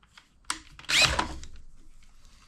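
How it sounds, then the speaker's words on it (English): A drill bores slowly into material for a homemade shrimp gun, with no vise to hold the work, a short whine starting near the middle and then tailing off. "try drilling a little bit slower"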